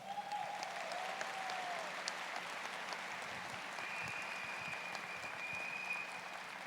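Steady applause from an audience at the CPAC Brasil 2021 conference, a dense, even wash of clapping held for several seconds at a moderate distance with no speech over it.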